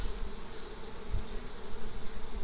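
Carniolan honey bees hum steadily around hive frames of spring honey, a continuous close buzz with no voices over it.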